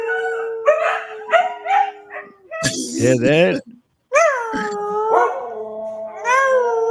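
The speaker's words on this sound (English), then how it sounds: "I know they're howling, but it looks like they're howling in tune" Several dogs howl in long, wavering, tuneful tones that rise and fall, with a short burst of yips and barks in the middle, while people talk briefly at the start and near the end.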